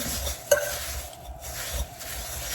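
Whisk stirring salt and cinnamon into an oatmeal mixture in a bowl, a soft steady scraping with one sharper clink early on, close and quiet with no talking.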